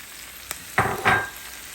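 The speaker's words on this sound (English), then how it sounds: "so let me put the tomatoes in now" Tomatoes go into a hot pan with ground garlic. After a quiet moment, two short bursts of close sizzling follow one another.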